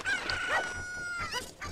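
A cucco crows in The Legend of Zelda: Ocarina of Time, a loud, near rooster-like call with a warbling, stretched tone and a short clucking tail, with no talking.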